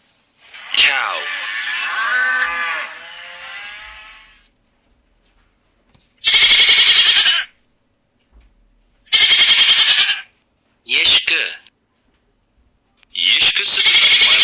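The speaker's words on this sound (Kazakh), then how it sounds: "Коза." A goat calling, a long wavering bleat followed by several shorter, loud, harsh bleats spaced a few seconds apart, close by, with quiet gaps between them.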